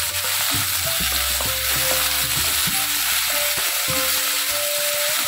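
Ingredients for upma sautéing in a pan, with a steady, close sizzle and frequent scraping and stirring strokes throughout.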